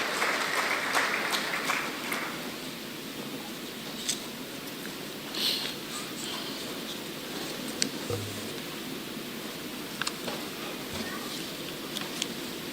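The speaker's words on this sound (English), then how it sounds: "Students, a round of applause for their excellencies for taking time to be here to celebrate with you." Audience at a college graduation ceremony applauding, a broad, even wash of clapping from a large crowd, heard from a distance with faint voices mixed in.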